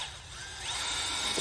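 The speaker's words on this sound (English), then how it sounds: "Next, we'll drill the holes in the shutter first." A power drill bores holes into a shutter, giving a short burst of steady, buzzing motor noise with a thin high whine that rises partway through. Nobody talks.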